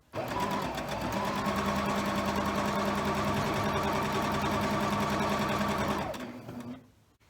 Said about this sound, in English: I'm putting them together and nesting the seam allowances like this, and then sewing those together.